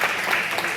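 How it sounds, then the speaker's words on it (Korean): Brief, dense burst of audience applause during an education office lecture in Wanju, steady and fairly loud throughout its short span. "박수 한번 주시죠."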